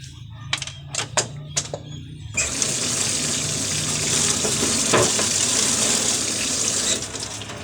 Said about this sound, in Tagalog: Ito, sibuyas mangga. Halo natin.